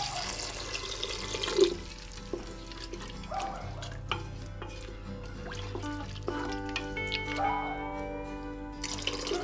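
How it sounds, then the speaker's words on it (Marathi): Water splashes and trickles into a cooking pot of rinsed basmati rice for veg pulao, a steady running pour with light clinks and stirring knocks, close by and fairly quiet. "आता आपण पाणी घालून घेऊयात।"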